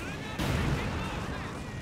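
A grenade explosion in a World War II strategy game match erupts as a sudden loud boom amid ongoing battle noise and gunfire, with a commentator talking over it.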